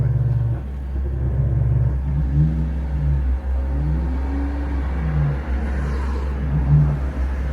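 Morgan car at a Brands Hatch breakfast meeting, a deep steady engine rumble with low-pitched revving swells, close and continuous with no speech.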